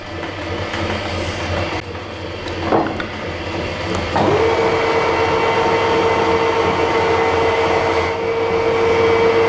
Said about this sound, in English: clutch is dragging quite a bit, look. It does that when it's cold and hasn't been run for a long time